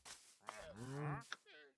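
A cow in Minecraft lets out a low, drawn-out moo with a rising, wavering pitch, quiet and alone, bracketed by short clicks.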